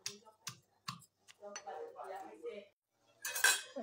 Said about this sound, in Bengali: হামনদিস্তায় থেতো করে নেব।